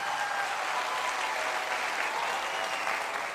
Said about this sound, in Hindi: एक जोरदार तालियां अपने आप के लिए।